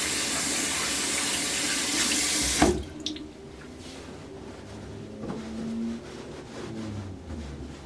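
A sink tap runs in a steady loud stream while hands are washed, then shuts off abruptly, leaving a quiet room with faint handling noises.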